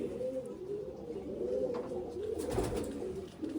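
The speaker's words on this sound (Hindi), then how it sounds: "उड़ा हुआ कबूतर है, देख सकते हैं, कलर किया हुआ है कबूतर।" A pigeon coos in soft, low repeated rolls, close by and steady, with faint background noise and no talk.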